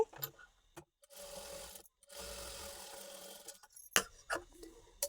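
A sewing machine runs in two bursts of steady stitching while a lehenga blouse is sewn, each run lasting about a second and a half, separated by brief pauses, with a few sharp handling clicks and taps afterward.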